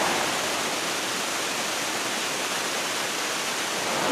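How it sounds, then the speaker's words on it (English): Multnomah Falls on the Columbia River roars as a steady, dense wash of falling water, loud and unbroken throughout with no voices. "Multnomah Falls are absolutely beautiful"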